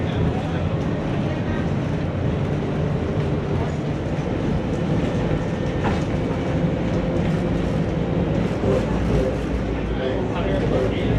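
Seattle Center Monorail train in motion, heard from inside as a steady, loud rumbling roar with faint rattles throughout.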